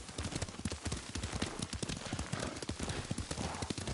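Horse hooves clop in a quick, steady rhythm while riding in the video game Ghost of Tsushima, sharp and close over a noisy background.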